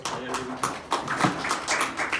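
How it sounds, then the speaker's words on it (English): An audience at a corporate presentation claps for a presenter in a few sparse, scattered claps, fairly faint, with a voice speaking alongside. "Let's give him a clap"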